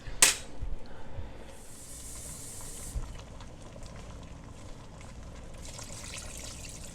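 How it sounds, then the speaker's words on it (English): Water pours into a pot of collard greens, a soft, close trickle and splash lasting several seconds at low volume, with faint kitchen clatter around it. "I'm gonna add about about a cup or two of water."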